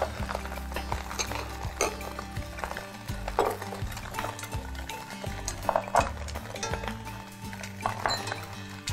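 Duck egg stirred in hot frying oil in a wok, a steady run of metallic clinks and scraping strokes over a dense sizzling bed, close and fairly loud with no voices.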